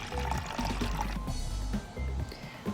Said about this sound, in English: The only thing you need is a plastic cup or a glass cup, and then we're going to add water to it.